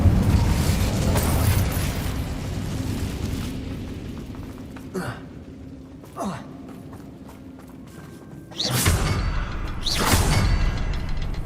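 Incendio fire spell cast in Hogwarts Legacy, heard as short whooshing bursts and a fuller blast of fiery noise over steady game ambience and footsteps, with the later bursts louder and close.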